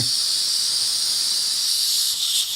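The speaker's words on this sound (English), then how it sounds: "it's leaking from the back of the three-way at this point" A steady, loud high-pitched hiss of gas escaping continuously from the back of the three-way valve on a Bob Long Signature Series Autococker paintball marker, close up and uninterrupted.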